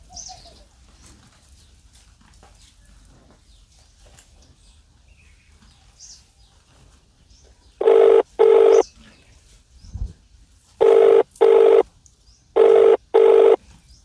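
A telephone rings in three clear double bursts, loud and close, after a quiet stretch with faint background noise.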